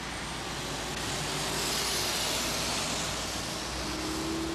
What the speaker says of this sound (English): watch this truck attack the hill here